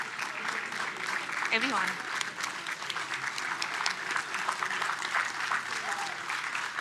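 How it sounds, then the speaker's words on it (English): An audience at a workforce skills conference gives a standing ovation, sustained loud clapping from many hands with cheering voices and a brief spoken word mixed in. "Give them a very big round of applause."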